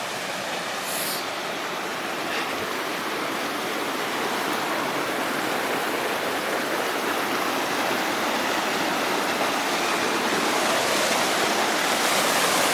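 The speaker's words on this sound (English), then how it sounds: "Here's where we can get water, and you can hear it already." A stream beside a hiking trail flows in a steady, full rushing wash of water, close and continuous, swelling slightly louder toward the end with no one talking.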